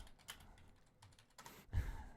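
Typing on a computer keyboard during a live programming session: irregular bursts of clicky keystrokes with short pauses between them, close to the microphone and with no talking.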